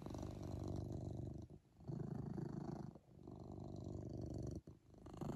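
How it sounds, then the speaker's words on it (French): A cat purrs steadily and close in a home, a soft rumbling drone broken by three brief pauses for breath, with no talking. "C'est quoi qui beau petit ronron là?"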